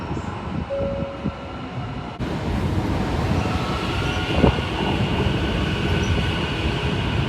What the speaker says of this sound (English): here my train comes right now